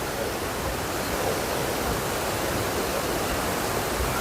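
River water pouring steadily through a floodgate on the channel between Semarang and Demak at Pucang Gading, a dense, continuous rushing roar with no voices.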